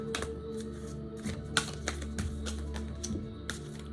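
Moonology manifestation oracle cards being shuffled by hand, soft quick riffling taps and flicks heard up close and fairly quiet, with a few sharper clicks over a low steady hum.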